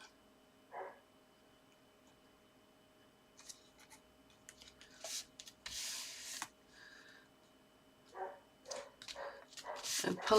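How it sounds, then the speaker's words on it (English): A dog barks in the background of an indoor craft session, sounding as several short, scattered bursts of barking and yips spread across the stretch, faint to moderate, mixed with paper handling and tool noises. "Apologies if you hear dog barking,"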